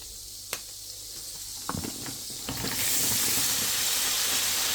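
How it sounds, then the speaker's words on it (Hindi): Spinach drops into a hot pan of butter for boneless palak chicken and bursts into a loud, steady sizzling hiss after a few soft clinks, close and continuous with no talk. "चलें अब इसमें ये पालक डाल दें।"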